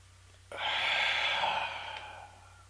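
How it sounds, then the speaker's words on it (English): One deep, slow inhale through the nose, a long breathy rush that starts abruptly, holds steady, then fades away, close and alone. "Deep breath in, close your eyes."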